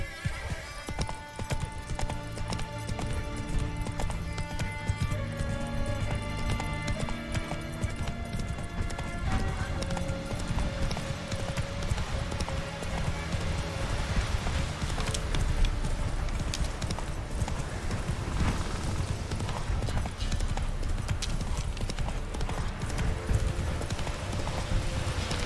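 The horse Roach gallops in The Witcher 3, its rapid hoofbeats pounding steadily and close under a thick layer of orchestral game music and ambience, with a brief whinny possible along the way.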